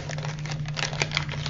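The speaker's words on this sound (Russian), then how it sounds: "Значит, мы открываем упаковочку." Plastic packaging holding small water sachets being opened, giving a close, continuous crinkling and rustling over a steady low hum.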